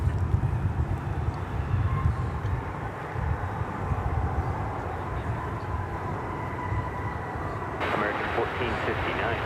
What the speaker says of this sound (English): that was Flight 1456 coming in from Salt Lake City